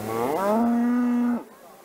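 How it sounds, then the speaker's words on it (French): A Vosgienne cow at an agricultural show lets out a single loud, close moo that rises and holds steady before ending abruptly, with faint hall murmur behind. "sa vache vosgienne, Rihanna."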